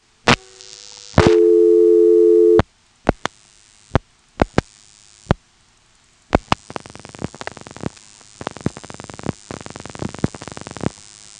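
Step-by-step telephone exchange register sender, March 1977, pulsing out the digits 338: a steady tone for a second or so, then three separate groups of rapid clicking pulses under faint line hiss.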